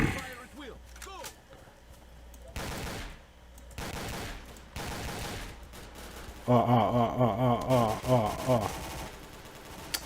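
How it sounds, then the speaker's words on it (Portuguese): Bursts of gunfire crack in S.T.A.L.K.E.R.: Call of Pripyat, with scattered shots and then a dense rapid volley near the end, while someone talks excitedly over it. "Os caras me atirando, velho."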